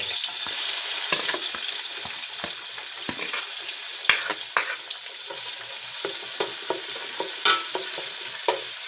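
Crushed ginger, green chili, garlic and curry leaves crackle and sizzle in hot oil for rabbit roast, a steady loud fry broken by sharp spatula scrapes and stirring knocks.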